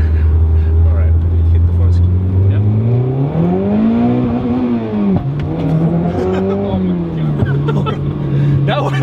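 A turbocharged 2.5-litre Mazda Miata putting out around 400 wheel horsepower accelerates hard from inside the cabin, its engine note climbing steeply to the rev limiter, dipping through a gear change and pulling again, loud and close, with people talking over it.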